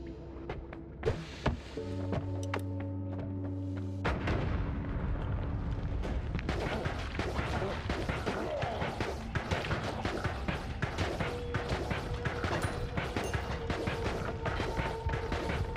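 Explosions and rumbling booms from the game Noita, a bomb going off among repeated bursts, loud and dense throughout with no talk.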